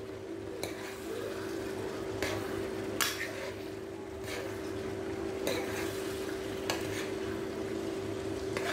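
Pancit noodles are stirred in a pan, with utensil scrapes and clacks landing at irregular intervals over a steady frying hiss and a constant background hum, close and moderately loud.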